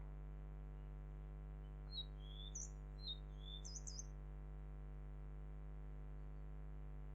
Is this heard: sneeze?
no